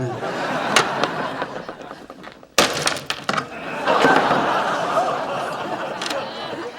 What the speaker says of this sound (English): Why are you smashing a flash frozen banana?